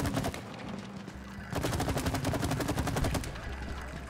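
Rapid automatic gunfire in the co-op video game It Takes Two, a dense rattling burst of quick evenly spaced shots over a constant background rumble, with game sounds around it.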